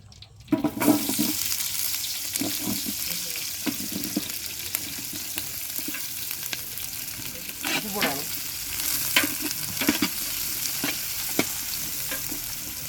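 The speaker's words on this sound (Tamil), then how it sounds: "சரி வெங்காயம் போடுறோம்" Onions fry in a pan at a big cooking feast with friends, giving a steady hissing sizzle broken by occasional stirring scrapes and knocks.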